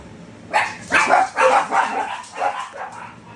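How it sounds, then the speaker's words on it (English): Dogs bark nearby in a quick run of about six loud, sharp barks at an uneven pace, with brief gaps between them. "the dogs decided they wanted to start barking"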